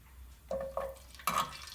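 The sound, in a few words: garlic frying in hot oil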